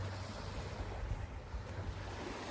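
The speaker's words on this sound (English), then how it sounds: "And the sea is that calm here." Calm sea waves washing softly on a Spanish coast, a steady low rolling surf with some wind noise on the microphone, continuous and moderately distant, no talking.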